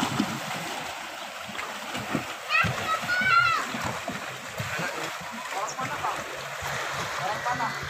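Water splashes near the shore of a lake on Samosir Island at Lake Toba, mixed with a voice and family chatter throughout.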